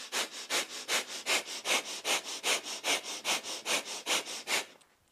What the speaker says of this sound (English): we're gazing towards the third eye at the center of the brow with a breath of fire.